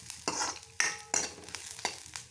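Tempering seasoning is stirred in a frying pan for a Telugu pikka charu rasam, with about five distinct, sharp scraping strokes over a soft, continuous sizzle, heard up close.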